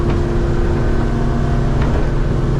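Jeanneau NC 33 motor yacht running single-handed at sea at maximum engine speed, about 4,100 RPM and nearly 30 knots, giving a loud, steady, close engine roar with rushing water noise and no talking.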